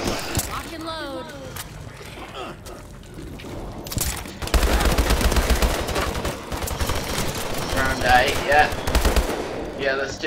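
Rapid automatic fire from the HBR A3 rifle in Call of Duty Advanced Warfare zombies mode, sustained loud bursts over several seconds alongside game noise and people talking.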